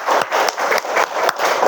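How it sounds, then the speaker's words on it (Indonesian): A class group applauds in a room, brisk steady clapping from many hands lasting under two seconds. "Beri tepuk tangan dulu yuk."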